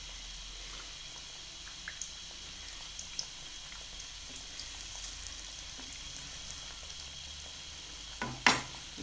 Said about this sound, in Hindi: सिर्फ 2 मिनट में ये टिक्कियाँ तैयार हो जाती हैं ऑयल में।